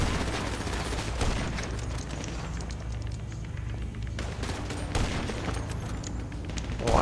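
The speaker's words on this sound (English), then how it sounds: "Oh, I'm getting shot at, Mason." Gunfire in the video game GTA, rapid bursts of shots in a busy fusillade with thumps, dense and continuous throughout.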